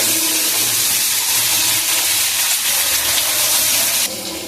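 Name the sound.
stirring frying taro, potato, chillies and tomato in pan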